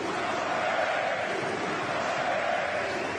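A fight-night crowd at a UFC event roaring and cheering in a dense, steady wall of noise, loud and continuous throughout, with a commentator's voice faintly blended in.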